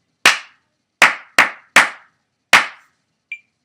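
Five crisp, loud hand claps close up in a rhythm exercise from a woodwind melody lesson, spaced unevenly as a pattern with short gaps, followed by a faint brief click at the end.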